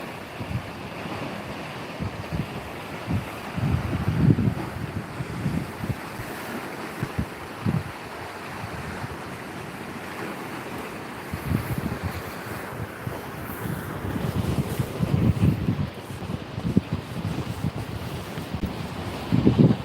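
Sea waves roll and break at Hamsilos fjord in Sinop under gusty wind that buffets the microphone. Surges swell and crash in uneven waves throughout, with no speech.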